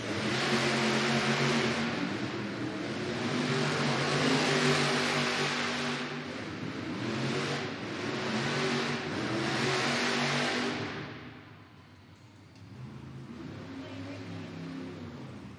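Monster truck engines idle and rev loudly at the starting line of a Monster Jam arena event in Worcester, Massachusetts, a steady deep roar that swells and dips before dropping away briefly and rising again.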